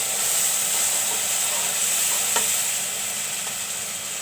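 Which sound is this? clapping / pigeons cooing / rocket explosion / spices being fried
spices being fried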